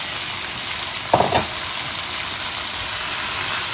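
Tomatoes frying in a pan, a steady dense sizzle filling the background throughout, with one short burst of stirring or clatter near the middle; no voices.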